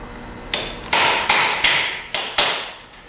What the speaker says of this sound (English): I'm going to see if we can tap out them riblets.